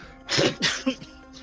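A person imitates a dog's sneeze in a smoky room, giving a quick sharp snort-like burst followed by a short second puff, close and moderately loud.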